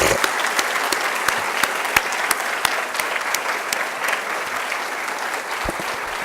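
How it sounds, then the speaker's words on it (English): A college audience at a fall State of the College address applauds in a dense, steady burst of many hands that holds evenly throughout without a voice over it. "can you give me a rousing round of applause for her"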